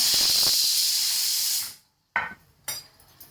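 Loud, steady sizzling of green chillies on a hot iron griddle, cutting off abruptly, then a few short bursts of crackling hiss.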